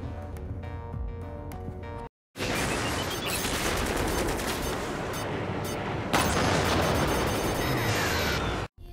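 Spaceship cannons in the space combat game Strike Suit Zero fire in dense, continuous rapid bursts mixed with booming impacts and explosions, loud and sustained after a brief musical opening and a short silence.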